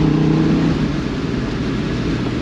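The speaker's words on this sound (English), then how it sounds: "V10s have a crazy sound." A 2000 Dodge Viper RT/10 V10 engine roars steadily at close range, with a sustained high-revving drone that settles and holds without letup.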